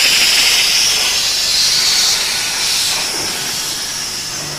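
A 120-year-old coal-fired steam engine hisses steam loudly and continuously from its boiler, a broad steady rush that eases off slightly toward the end.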